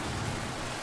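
Rain falling steadily as a dense, even hiss, loud and close throughout with no gaps or voices.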